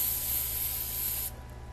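Sealant spray mist is blown over fillable glitter ornaments as a steady, close aerosol hiss lasting over a second, then cutting off abruptly and leaving quiet room tone.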